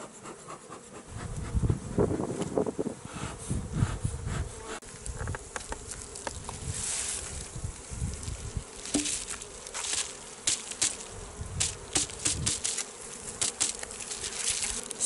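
Honeybees buzz steadily around an opened beehive body during preparation of hives for wintering, a dense droning swarm with individual bees passing close, plus occasional handling knocks and scrapes.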